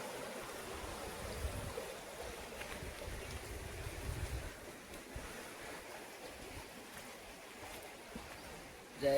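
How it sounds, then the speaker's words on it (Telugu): A forest waterfall at Penchalakona flows in a steady, soft broadband rush, faint and continuous throughout, with a gentle wind-like wash and no voices. "ఈ వాటర్ సౌండ్కే మనసు ప్రశాంతంగా ఉందండి."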